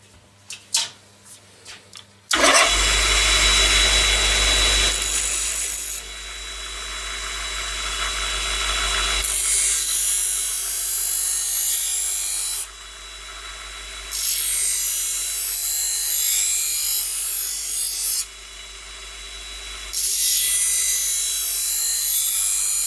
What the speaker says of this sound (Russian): буду срезать переднюю кромку ножа. Именно ту часть, которая была сломана.